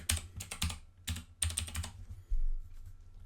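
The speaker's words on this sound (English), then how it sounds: "So we just type in Jupyter" A command typed on a computer keyboard, quick clusters of close key clicks in several short bursts, ending with a heavier keystroke and a quiet stretch.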